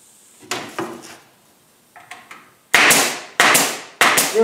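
Wooden stringers are fastened to a plywood storage cabinet: a few light taps and knocks, then three loud, close, sharp blows in quick succession, with no talking.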